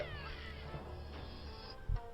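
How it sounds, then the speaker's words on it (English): A cartoonish cat meowing in the Super Lucky's Tale video game, a drawn-out wavering meow over game music and effects, ending with a short low thump. "It's a wacky cat that knows martial arts."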